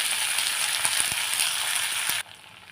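Onion, tomato and garlic sautéing in a pan, a steady close sizzle with a few soft crackles and stirring taps that cuts off abruptly near the end, with no talk.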